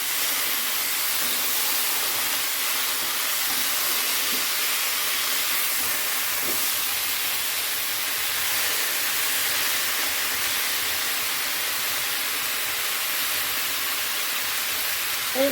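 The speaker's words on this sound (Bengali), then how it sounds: "এই 1 বাটি দুধ দিচ্ছি" Milk poured into a hot pan of Bengali shukto, a loud steady hiss and sizzle of steam that fills the whole stretch evenly, close by, with no talk over it.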